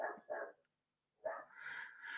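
A dog barks in short bursts: two quick barks, a pause, then a longer run of yelping barks, heard fairly close in a quiet indoor room with no talk.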